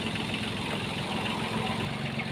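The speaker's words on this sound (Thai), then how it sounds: "เรารถน้อยนะครับรถไถน้อยลากนะครับนะครับลาพ่วงขนาดนี้ครับ" A small farm tractor pulling a trailer idles steadily at a sugarcane loading yard, giving a constant low engine rumble with even vibration and no talk over it.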